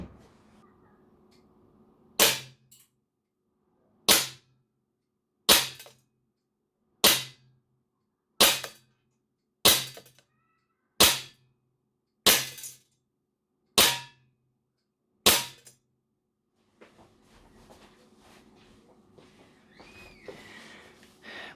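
An airsoft gun powered by green gas fires ten sharp, evenly spaced shots about 1.5 seconds apart, loud and close, followed by quieter handling noise and faint background sounds.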